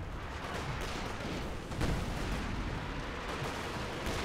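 Artillery barrage with airburst shells in Company of Heroes 2, a steady dense rumble of distant blasts and crackling fire with one heavier impact near the middle.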